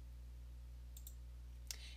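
A computer mouse clicks two or three times, faint and sharp against a steady low electrical hum, with short gaps between the clicks.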